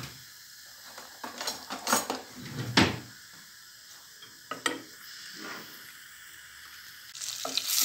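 Butter and vegetable oil melting in a pot give a soft, steady sizzle, broken by clinks and scrapes of cookware and utensils, with louder clattering bursts near the start and middle and a brief hiss at the end.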